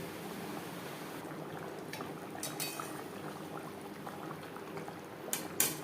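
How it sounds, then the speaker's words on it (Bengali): Yogurt gravy with fried katla fish bubbles at a steady boil, a dense continuous simmering hiss with a few sharper clinks of a utensil near the end. "গ্রেভি বেশ ভালো করে ফুটতে শুরু করে দিয়েছে"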